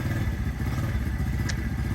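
A missionaries' motorcycle in Romblon idles and rumbles nearby, a steady low engine drone with faint clattering over it.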